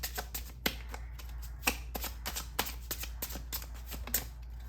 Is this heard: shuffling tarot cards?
yes